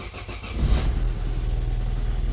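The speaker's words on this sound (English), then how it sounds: "So let's start the engine." A Vauxhall Astra F engine cranks briefly and catches, then settles into a steady close idle with a low, even rumble.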